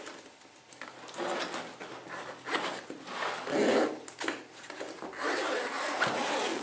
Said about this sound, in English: If we run this zip around, then the whole thing expands to about double its height.